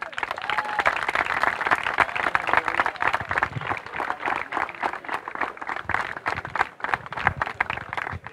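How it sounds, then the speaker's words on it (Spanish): Sustained applause from the audience at a polo tournament prize ceremony, dense steady clapping that carries on without pause, with no speech over it. "Bueno, fuerte aplauso también."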